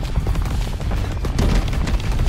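Explosions from the arcade-style game Missile Command Recharged, a steady dense rumble of low booms and bursts rolling over one another for the whole stretch, loud and continuous with no pauses.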